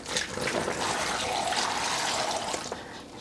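Simple syrup for a rhubarb syrup recipe pours steadily into a bag, a continuous close liquid rush and trickle lasting a few seconds with no voices.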